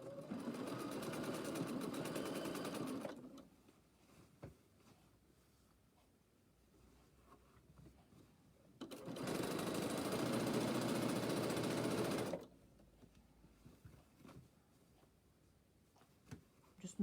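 A sewing machine top stitches about a quarter inch from a fabric edge at a long stitch length, running in two steady whirring stretches with a quiet pause between them.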